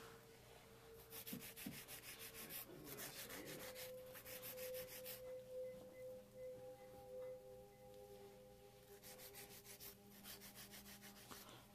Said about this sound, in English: I'm just touching up the sides with a 150 grit file to make sure the nails stay nice and sharp